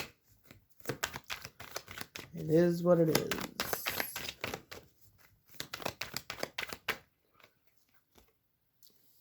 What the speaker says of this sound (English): the phone's going to be bouncing because I'm shuffling on my bed.